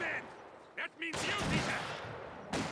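Booming mortar and gunfire explosions from the Company of Heroes 2 battlefield, a few sharp blasts and a sustained rumble under a commentator talking.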